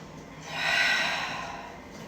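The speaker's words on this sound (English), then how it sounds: "1 more breath" A single deep breath during a yoga exercise, a close, airy exhale that swells and fades over about two seconds.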